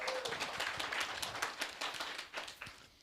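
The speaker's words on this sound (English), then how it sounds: "Applause for Ola as well" Audience clapping after a session talk, fairly faint and scattered, a loose patter of hands that thins out and fades within a few seconds.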